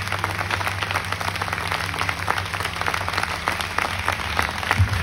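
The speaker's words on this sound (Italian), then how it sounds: "Per favore un applauso per lui e per suo figlio" An opera concert audience at the Teatro Silvio Pellico in Trecate claps steadily and densely for about five seconds, with a low hum of the hall running underneath.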